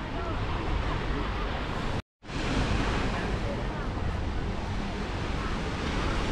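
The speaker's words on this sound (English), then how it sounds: "look, the sea, brilliant" Sea surf rolls onto the beach at a Protaras hotel, a broad continuous wash of waves heavily mixed with wind buffeting the microphone, loud and steady apart from a brief dropout near the middle.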